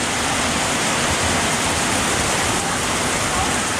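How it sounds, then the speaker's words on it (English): Heavy rain pours down around a house beside Angkor Wat while the runoff drains away around the building, a dense, loud, unbroken hiss of water that fills the whole stretch. "But geez, it absolutely just pissed down so fast."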